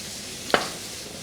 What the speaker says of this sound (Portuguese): Eu vou fritando uns bolinhos aqui